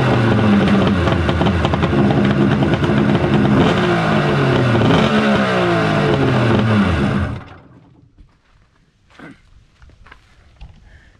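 A Kawasaki 1100 jet ski engine runs loud and close with a rough, revving drone that rises and falls for about seven seconds, then cuts off, leaving faint knocks and handling sounds.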